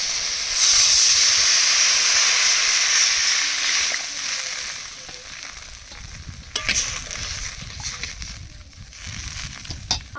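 Water poured into a hot pan of village-style mourala fish curry with mango bursts into a loud, steamy hiss that slowly fades to a softer simmer, broken by a few stirring clinks.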